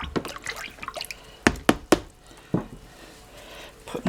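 Paper pulp made from soaked-off postage stamp paper being stirred in a tub of water: a few sharp, close watery knocks and splashes spaced unevenly, with soft sloshing in between.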